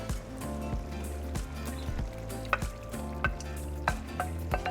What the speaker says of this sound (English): So now we're going to throw in our shrimp.